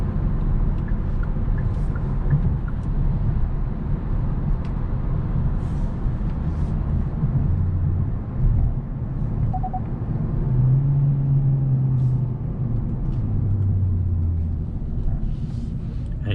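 Steady broadband tire roar and wind rush inside a 2022 Hyundai Sonata cruising at highway speed, a constant low rumble with a few brief tonal hums and no talk.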